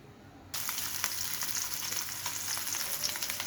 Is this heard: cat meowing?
no